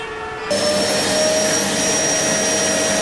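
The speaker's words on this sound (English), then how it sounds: "Could we borrow a vacuum cleaner?" A vacuum cleaner switches on after a brief quiet moment, then runs at a loud, steady whine with a constant high-pitched tone.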